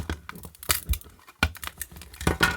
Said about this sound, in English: you can just crumple it up and throw it in the bin